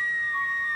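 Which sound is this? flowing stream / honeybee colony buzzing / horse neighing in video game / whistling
whistling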